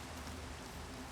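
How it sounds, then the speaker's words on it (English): Hail falling in the Minecraft video game, a steady dense patter of pelting ice that fills the whole moment evenly, with no talking over it. "Oh, we have hail now."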